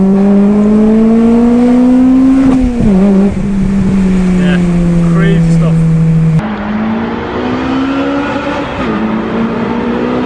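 A Honda Civic Type R EP3 engine revs hard and climbs steadily in pitch as it pulls into VTEC, heard loudly from inside the car, then drops back after a gear change before rising again.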